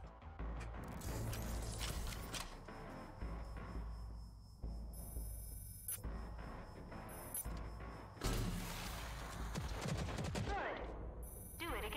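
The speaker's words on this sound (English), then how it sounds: "the smart rocket launcher can lock onto a target and fire multiple small homing rockets" Smart rocket launcher in Rage 2 firing bursts of small homing rockets, dense rapid popping and whooshing volleys with metallic mechanical clicks and beeps, loud and continuous, with a fresh burst near the end.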